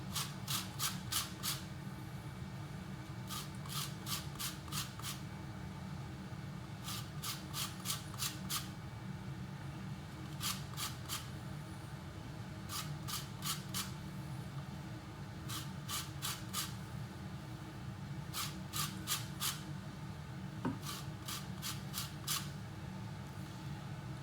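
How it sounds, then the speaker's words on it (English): A whole lemon is rubbed against a zester for tartar sauce, making short rasping scrapes in quick bursts of three or four strokes, repeated with brief pauses over a low steady background hum. "before I use the lemon, I'm going to zest it"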